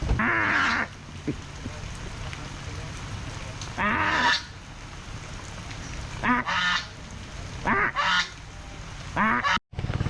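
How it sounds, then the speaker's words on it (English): Loud goose honks in several bursts on the Mekong River Delta, some harsh and drawn out, with quieter stretches and a steady background murmur between them. "Arguing with a goose."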